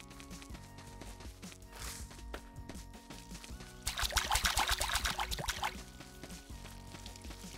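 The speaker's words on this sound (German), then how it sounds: "Aber das Gießen geht ja Gott sei Dank schnell." Water pours in a short splashing burst while crops are watered in the farming game Staxel, set over a looping music background with light ticking effects.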